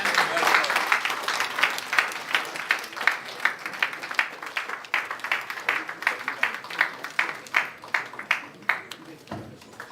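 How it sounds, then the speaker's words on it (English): An audience at an annual general meeting in Lagos claps steadily, a dense patter of hands with rhythmic accented beats running throughout, fairly close, with no voices over it. "Please keep the applause going."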